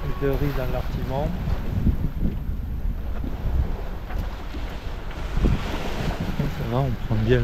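Wind buffets the microphone steadily aboard a sailboat under sail with jib and mizzen set, a continuous low rumbling roar with gusty swells, while someone talks over it.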